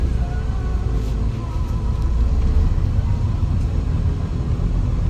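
Road traffic in Cebu heard as a constant low rumble of vehicles, a dense steady wash of engine noise at moderate distance with faint higher noises drifting in and out.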